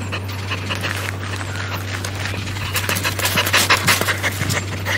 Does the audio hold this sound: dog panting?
yes